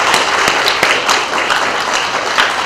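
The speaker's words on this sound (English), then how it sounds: "Let's give them a round of applause." Brief applause from a school audience during a USDA and state education department visit, with steady, moderately loud clapping and a few sharper claps standing out over about three seconds.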